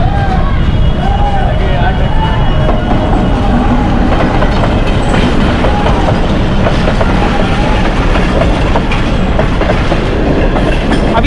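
A train rolls steadily through a railway crossing with loud, continuous rumble and rhythmic wheel clatter over the rails, close by, with distant murmuring voices and crowd noise mixed underneath.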